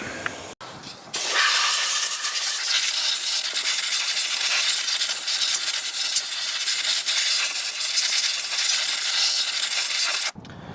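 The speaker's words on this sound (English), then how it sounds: "take some compressed air, blow the top of the motor off here" Loud, steady hiss of compressed air blasting across the top of a Chrysler 2.4L engine, running continuously for about nine seconds after a brief start, then cutting off abruptly.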